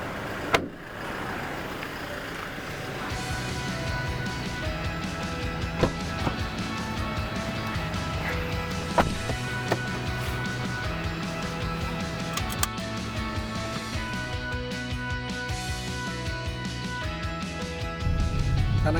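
Inside the cabin of a 2016 Toyota Kijang Innova 2.0 V manual, the petrol engine gives a steady, smooth hum with a few faint clicks and knocks, heard alone without talking.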